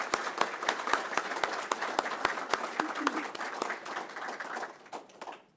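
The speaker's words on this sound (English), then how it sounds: "Can we please give Nurse Karen Anderson a round of applause?" Applause from a graduation ceremony audience for an EMS Academy nurse receiving an award, steady dense clapping with a few sharp louder claps standing out, fading away toward the end.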